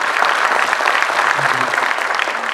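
Close, loud clapping from an audience at a youth conclave, a dense, steady patter of many hands that fills the short stretch without speech.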